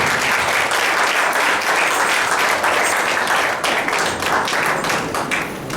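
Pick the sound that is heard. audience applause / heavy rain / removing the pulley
audience applause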